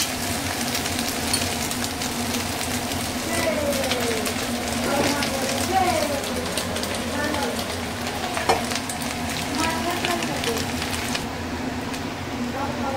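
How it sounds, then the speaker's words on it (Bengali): Flattened rice (chira) fries with raisins in a pan, a continuous close sizzle with scraping stirring strokes and a low background hum, while someone talks over it throughout. "আমি এইভাবে ভেজে নিচ্ছি, আর এর মধ্যে দিয়ে দিয়েছি হচ্ছে কিশমিশগুলোও দিয়ে দিয়েছি"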